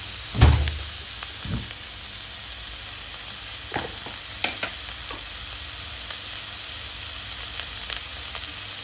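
Onions sauté gently in a pan for a potato stuffing, a soft low sizzle running steadily beneath a few scattered clinks and knocks of a utensil against the pan, with no voices.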